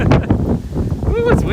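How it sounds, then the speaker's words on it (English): Wind gusting on a walk through the streets of Williamsburg, Brooklyn, a loud, continuous buffeting roar against the microphone with a voice briefly audible underneath. "Ooh, it's windy."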